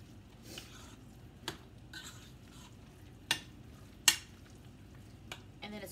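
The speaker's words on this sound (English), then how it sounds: "Now let's stir that around." Seasoned mushroom filling with salt stirred in a pan, a soft continuous scraping and sizzle broken by a few sharp utensil clicks against the pan, close and without talking.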